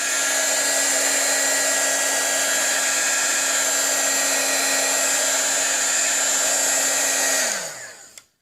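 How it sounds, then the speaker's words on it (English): Milwaukee heat gun blowing hot air on coloring book pages, a loud steady whirring blast that holds evenly, then winds down and cuts off near the end with a faint click. "that is the Milwaukee brand heat gun that I got years ago in the scrapbooking section"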